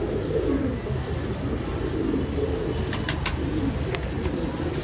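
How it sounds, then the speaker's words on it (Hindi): A pigeon coos with low, soft, repeated calls against steady outdoor background noise, with a few faint higher chirps later. "ये चल पड़ा कबूतर, अब देखें।"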